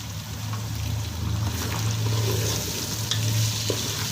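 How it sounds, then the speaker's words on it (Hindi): Potatoes with cumin and turmeric frying in a pan give a steady, hissing sizzle with a low continuous hum underneath, close and even throughout, with no talk. "अब इसकी हम बुनाई करेंगे"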